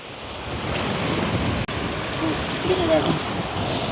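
Strong wind roars steadily across a village fishing pond, a loud, continuous broadband rush with gusty swells and one brief dropout midway.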